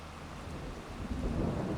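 Steady rain with a low thunder rumble in the farming video game Farming Simulator 22, a quiet, continuous wash of noise with no speech.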